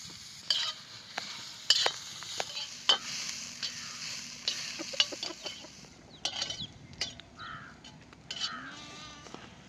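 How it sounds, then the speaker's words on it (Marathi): Onion roasting on a tawa over a wood-fired clay stove, a quiet sizzle punctuated by frequent sharp spatula scrapes and clinks against the pan, close by with no talking. "कांदा चांगला लाल भाजला"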